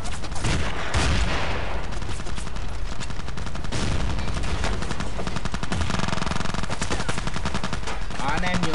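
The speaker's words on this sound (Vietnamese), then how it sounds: "anh em giữ súng máy đi" Sustained automatic machine gun fire in the video game Battlefield 2 during a 16 vs 16 match, dense rapid bursts filling the whole stretch with overlapping gunfire, loud and close.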